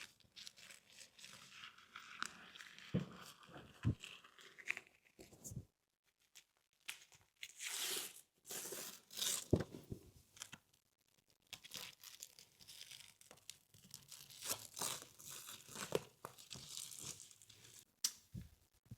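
Peel and stick architectural vinyl wrap is cut on a wall, giving quiet irregular crinkling, tearing and scraping rustles in short bursts with brief pauses, close and soft.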